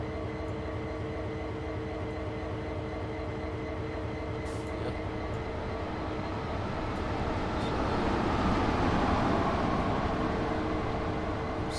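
CSX freight train in Train Sim World 6 rolling steadily along the track, a continuous low rumble and rattle of railcars that swells slightly louder in the second half, with no talking.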